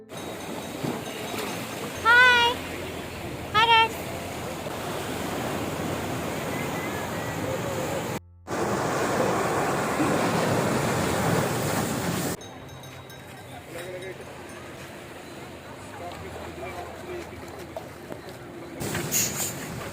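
Ocean surf rolls onto the beach at Kanyakumari, India's southernmost point where the Bay of Bengal, Arabian Sea and Indian Ocean meet, a steady broadband wash with wind, short high whistle-like tones and a brief gap partway through.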